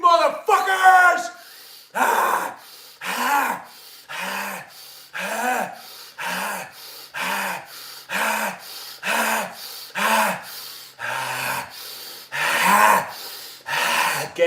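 Heavy, forceful breaths during a yoga breathing exercise, about a dozen sharp rhythmic huffs repeating roughly once a second, each a loud gasping rush of air with a grunting voiced edge, close up.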